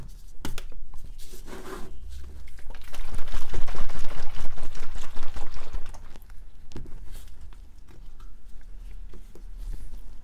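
Hydroponic fertilizer mix, Masterblend 4-18-3, sloshes and rattles inside a closed container shaken by hand, a steady scratchy churning that swells louder in the middle and eases off toward the end, close and with no voices.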